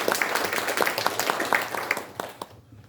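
Audience claps for a guest at a Korean ceremonial launch event, a few seconds of scattered, uneven hand claps that thin out and fade near the end.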